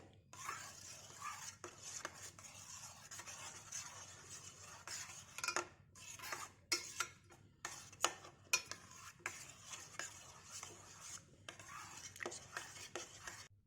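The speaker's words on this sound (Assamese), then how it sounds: "এতিয়া আমি অকণমান লৰাই থাকিব লাগিব, নহ'লে তলত ধৰি যাব পাৰে" A homemade soap mixture of natural ingredients, with two capsules added, is stirred in a pot. A utensil scrapes and knocks against the pot in irregular bursts, with several sharper clinks near the middle, and no one speaks.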